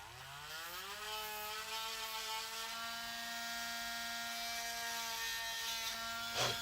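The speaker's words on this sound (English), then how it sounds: "we're going to use that, and we're going to drill just a little more." A small electric drill whirs steadily as it bores into a plastic toy figure part, its motor pitch climbing as it spins up and then holding a continuous high whine close by.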